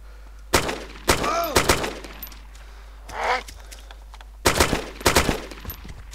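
Full-auto AK rifle fire in the DayZ video game, several sharp bursts of rapid shots spread across the clip, loud and close over a low steady hum.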